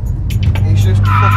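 A Toyota Yaris GR accelerating hard in first gear, a loud, steady engine drone building through a short pull, heard from inside the car.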